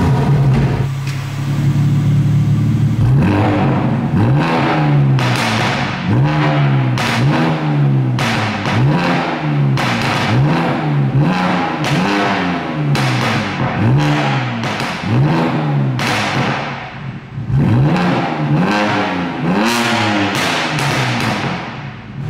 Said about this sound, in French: Donc au niveau de l'échappement, ça gueule.